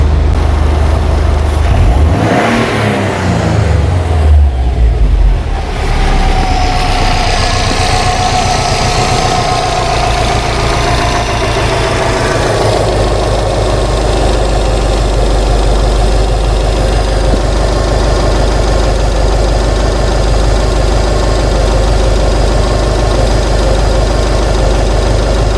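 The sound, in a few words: 2008 Subaru Legacy engine revving then idling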